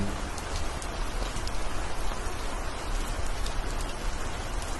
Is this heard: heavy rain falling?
yes